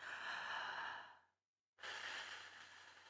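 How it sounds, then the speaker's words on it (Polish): A slow, deep breath is drawn in during a voice emission exercise. The airy rush is close and soft, pauses briefly, then a second long breath follows. "Jeszcze raz oddech."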